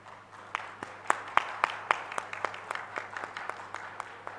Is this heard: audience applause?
yes